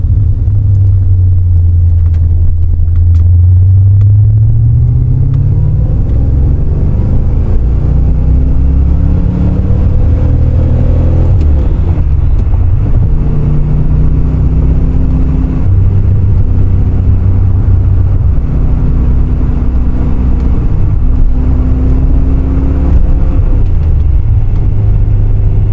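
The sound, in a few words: C4 Crossfire Corvette engine accelerating on the road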